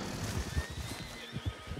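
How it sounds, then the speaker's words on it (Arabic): Horses in the video game Red Dead neigh and whinny close up over a low rumble of hooves and movement, with a couple of shrill calls in quick succession. "أوه شوف كم حصان"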